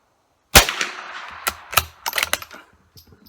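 Remington 581 rifle fires one sharp, loud shot outdoors, followed by a cluster of quieter metallic clicks and clatter.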